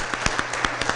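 An audience in the galleries of a city Board of Aldermen meeting applauds, giving a steady wash of clapping with a few louder claps standing out, fairly close and without talk over it.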